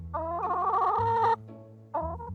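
A hen clucks and warbles in a drawn-out, wavering call, breaks off briefly, then clucks again over a low steady hum.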